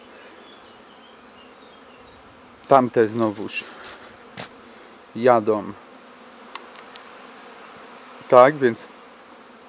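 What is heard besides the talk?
honey bees buzzing around beehives in an apiary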